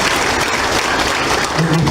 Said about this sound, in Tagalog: ma'am, palakpakan din natin sa